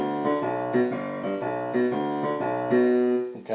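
Rock and roll piano lesson pattern with a syncopated left-hand rhythm, a steady run of chords repeating in even pulses, played alone, close and moderately loud.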